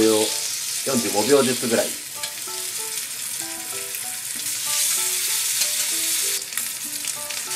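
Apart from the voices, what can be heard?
thin steak searing in olive oil over high heat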